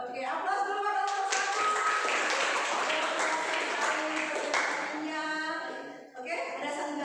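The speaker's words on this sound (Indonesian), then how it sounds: "Oke, aplaus dulu pada kelompok" Classroom applause for a student group during a lesson on the human respiratory system, a burst of clapping lasting several seconds, mixed with voices and chatter around it.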